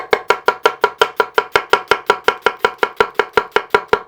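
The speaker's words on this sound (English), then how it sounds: "or you can do the tap chop." Nakiri knife tap-chopping an onion on a board: a steady, even run of about twenty crisp, close knocks at roughly five per second, loud and alone with no talk.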